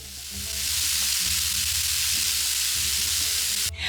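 Chicken kebabs in marinade sizzle and fry steadily for Persian cooking, a loud, continuous crackle that fills the whole stretch without any talking.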